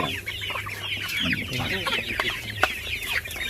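Free-range native crossbreed chickens, mostly black Australorp type, cluck busily and continuously up close while being fed a rice bran and corn bran mix.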